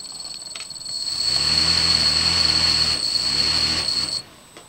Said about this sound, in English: Chatters a lot on startup.